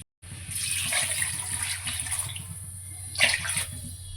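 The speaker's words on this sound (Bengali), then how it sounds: "এবার এর মধ্যে দিয়ে দেবো জল" Water is poured into a pan of potatoes fried in spices for a thin fish curry, a steady close splashing gush lasting about four seconds with a brief surge near the end.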